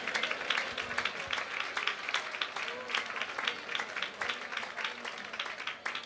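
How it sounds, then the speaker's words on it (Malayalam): A church congregation claps hands together during a Malayalam Christian gathering, a dense, steady patter of many hands running unbroken for several seconds, with voices faintly mixed in. "കൈയടിക്കുന്നവർ നന്നായി കൈയടിച്ചു."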